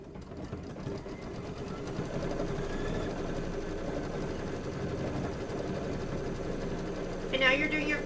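A computerized embroidery machine stitches quilting on a quilt block with a quiet, steady mechanical whir and rapid needle patter, joined by a brief higher clatter near the end.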